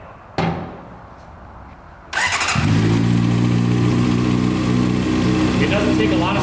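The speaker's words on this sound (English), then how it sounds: "It doesn't take a lot of speed to get onto the dyno, so we're just going to use first gear" A motorcycle engine starts with a thump and settles into a steady, loud, close idle and low first-gear drone as the bike is eased onto a dyno in a workshop.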